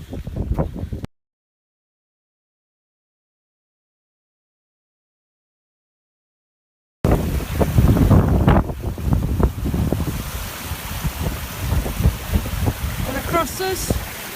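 Strong gusting wind buffets the microphone on a Lake District fell walk between Seathwaite and Styhead Tarn, a loud, continuous roar with rumbling low gusts that starts abruptly after a brief burst and a stretch of near silence.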